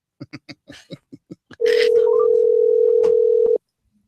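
Several short clicks and beeps of dialing for a prank call lead into a loud, steady telephone dial tone that holds for about two seconds and then cuts off.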